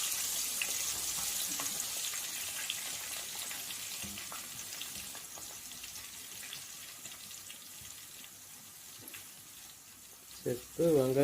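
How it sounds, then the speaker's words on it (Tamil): Onions sauté in hot oil after mustard seeds for a Tamil lentil-ball curry, making a soft, steady sizzle with faint stirring clicks, ending in a few louder clatters and brief water-like sounds. "வெங்காயத்தை கொஞ்ச நேரம் கலரி விட்டு பொன்னிறம் ஆகிற வரையும் வெங்காயத்தை வதக்க விடலாம்."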